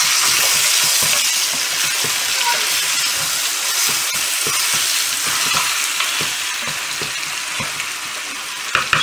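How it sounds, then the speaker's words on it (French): Onions and garlic frying in a pot for a Moroccan douaz vegetable stew, giving a loud, continuous sizzling hiss with faint stirring clicks and no speech. "je vais enchaîner pour faire revenir les oignons avec"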